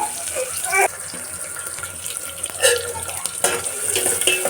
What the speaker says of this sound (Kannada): ಎಣ್ಣೆ ಕಾಯ್ತಿದ್ದಾಗ ಈರುಳ್ಳಿ ಮತ್ತು ಹಸಿಮೆಣ್ಸಿಕಾಯಿ ಇಷ್ಟನ್ನು ಹಾಕ್ಬಿಟ್ಟು ಚೆನ್ನಾಗಿ ಫ್ರೈ ಮಾಡೋಣ